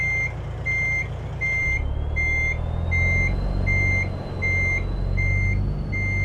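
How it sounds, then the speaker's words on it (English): A truck's reversing beeper in American Truck Simulator sounds loud, evenly spaced beeps over the low rumble of the idling diesel engine, with a faint rising whine in the background. "we can get ourselves in reverse and we'll lower the window down here too. That loud beeper."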